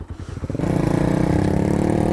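A café racer motorcycle engine chugs at low revs, then settles into a loud, steady rhythmic throb while riding close by.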